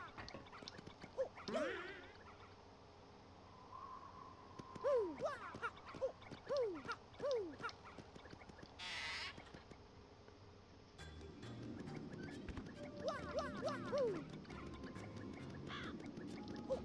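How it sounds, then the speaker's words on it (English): Bird calls in the Paper Mario: The Thousand-Year Door video game, a series of short chirps and descending tweets repeating through the passage amid game ambience and music, with a few louder bursts. "I hear birds."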